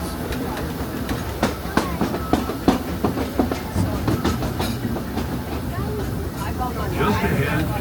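The Disneyland Railroad train rolls along its rails with steady clickety-clack and periodic wheel clunks, heard from on board at moderate loudness; a narrator's voice runs over the rumble.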